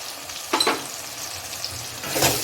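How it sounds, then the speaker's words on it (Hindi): Kashmiri red chili with turmeric and coriander powder fries in oil, with short bursts of sizzling and stirring over a low crackle. "इसको भी अच्छे से तेल में फ्राई करेंगे"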